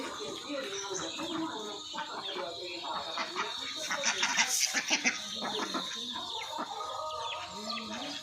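A yard of domestic ducks and chickens clucks and squawks nearby, hens and ducks calling over one another with a few sharper cries in the middle, no talking.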